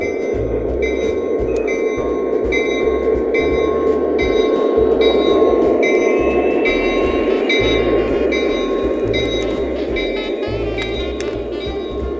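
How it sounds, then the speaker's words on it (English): A small O scale model train on a Christmas layout hums and rattles steadily along its track, with rhythmic clicking over the rail joints and a faint whirring motor tone. "This Christmas train looks pretty magical"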